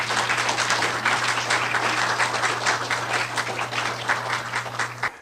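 A lecture-series audience applauds steadily to welcome a speaker, dense clapping from a large crowd sustained for about five seconds before cutting off, with a low steady hum underneath.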